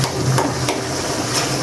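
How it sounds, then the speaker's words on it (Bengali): Egg and potato curry sautéing in a pan, a continuous close frying sizzle with a few brief scraping stirs, steady and fairly loud with no voices. "ভালোভাবে কষায় নিই।"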